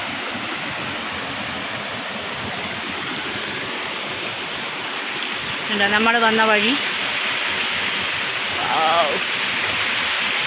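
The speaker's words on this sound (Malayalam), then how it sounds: "വെള്ളത്തിൻ്റെ സൗണ്ട് കേൾക്കുന്നുണ്ട്, ചല" A clear stream rushing over rocks at a rural forest spot, a steady broadband wash of flowing water close by, with someone speaking briefly partway through.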